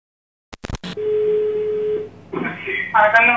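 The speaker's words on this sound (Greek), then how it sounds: "Θα πάρουμε τηλεφών την Ευρυδίτσι, τη Βαλαβάνη." A telephone number is dialed for a call: a few sharp clicks, then a steady hum-like tone for about a second, followed by a voice speaking over the line.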